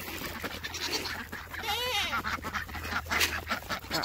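Ducks and geese honk and quack in a noisy outdoor farm flock at feeding time, calls overlapping continuously.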